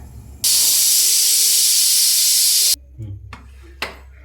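Pressure cooker cooking foxtail millet kichadi lets out a loud, sustained steam whistle and hiss for about two seconds, cutting off abruptly and followed by a few quieter clinks and knocks nearby.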